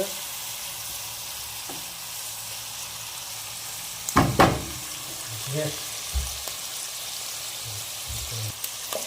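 Butter chicken masala sizzles steadily in a frying pan, and a spoon gives a few clattering, scraping stirs partway through over the constant frying hiss.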